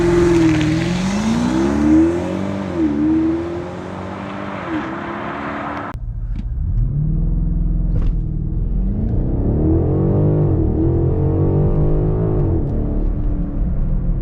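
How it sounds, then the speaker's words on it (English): A BMW X5 M50i pulls hard through the revs with a faint supercharger-like whine riding on the engine note. The pitch climbs, drops sharply at a gear change, then climbs again, loud and close with no talk. "it kind of sounds like a supercharger a little bit, like a little whine at the start"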